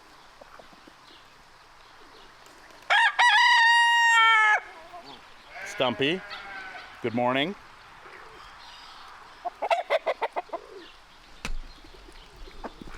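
A rooster crows loudly close by, followed by several shorter crowing calls and clucks, with a person speaking softly between them.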